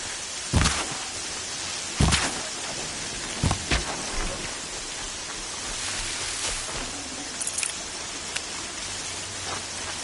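Rain falls steadily in Horizon Zero Dawn as an even wash of hiss, broken by a few louder thumps and footsteps, with a low rumble rising near the end.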